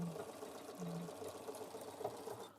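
A Bernina 770 sewing machine stitches decorative wing needle stitches, a steady, quiet mechanical whir running continuously with no talk.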